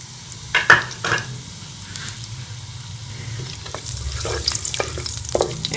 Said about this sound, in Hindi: कढ़ाई में मैंने 1 चम्मच जो है वो घी शामिल करें, इसे हम जीरा डाल लेंगे और जीरे को थोड़ा सा हम भून लेंगे।